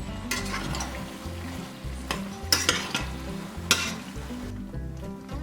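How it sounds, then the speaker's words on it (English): Cheese being stirred into cheeseburger pasta in a skillet gives steady scraping strokes with a couple of louder clacks against the pan, close up, over a soft sizzle and with no talking. "take my cheese and just dump this in here and just stir that in there real well"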